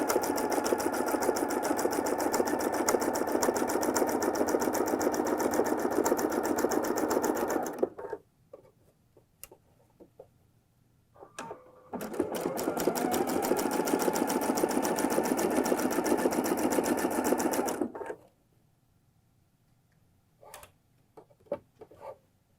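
Sewing machine stitching fold-over elastic binding onto fabric in a single line, running steadily in two long loud bursts separated by a quiet pause with small handling clicks, then stopping.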